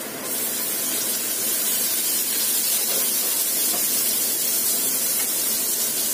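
Ginger and garlic frying in a little hot oil for glutinous rice chicken rolls, giving a steady, close, loud sizzle and hiss that runs unbroken for the whole stretch with no talking.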